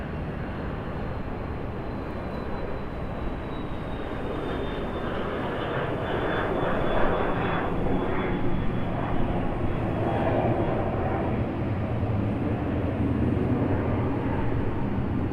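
A steady, broad roar of an arriving airliner at Raleigh Durham airport swells slightly midway and holds, heard at a distance with a faint whine above the rumble.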